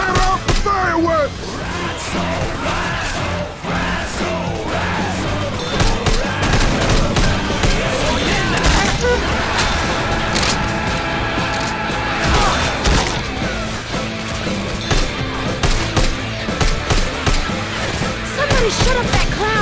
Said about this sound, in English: Set off the fireworks!